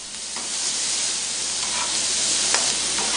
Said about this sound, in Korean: 이 멕시코 콩과 양파 고추를 같이 볶는 것을 콩자반이라고 하셨답니다